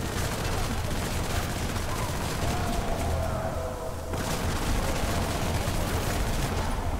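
Sustained machine gun fire in the shooter game Hatred, a dense, unbroken rattle of shots with heavy low thuds, loud and continuous for the whole stretch.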